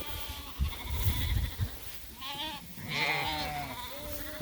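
A sheep flock, some still wearing blankets, grazes on red clover while several wavering bleats rise in the middle of the clip, moderately near, over low rustling and chewing noise.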